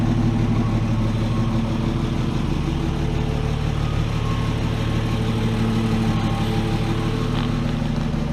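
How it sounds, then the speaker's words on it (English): A 1958 Chevy truck engine idles smoothly and steadily, a low even rumble held close and loud throughout with no voices over it. "This thing just runs so good. It sounds good. It's smooth."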